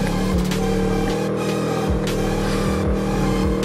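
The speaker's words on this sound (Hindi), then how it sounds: "पूरा थ्रॉटल दे रखा, वो भाई प्यारी चढ़ रही, अच्छी है खड़ी चढ़ाई भाई।" A scooter engine at full throttle climbing a steep hill, a loud continuous strained drone with wavering pitch held throughout.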